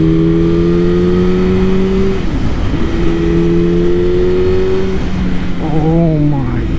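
A 2000 Honda CBR929RR sport bike, freshly rebuilt, revs hard and steadily with a loud, buzzing engine note. It drops briefly, then climbs again before falling away near the end.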